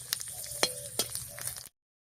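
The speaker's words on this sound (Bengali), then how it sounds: "গোটা গরম মশলা একটা শুকনো লঙ্কা গোটা জিরা আর তেজপাতা দিয়ে ফোড়ন দিচ্ছি" Whole garam masala, a dried red chilli, cumin seeds and bay leaf tempering in hot mustard oil, crackling with a steady close sizzle and a few sharp pops, no talking.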